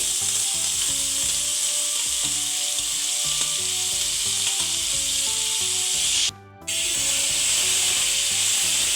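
Boiled bottle gourd fries in a pan with a loud, continuous sizzle, while repeated rubbing stirs scrape underneath and a brief pause falls partway through.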